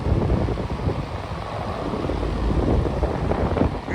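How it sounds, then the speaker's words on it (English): A vintage box fan runs steadily, its loud, close broadband rush of moving air hitting the microphone like wind, with no pauses and no voices. "Be prepared for wind noise."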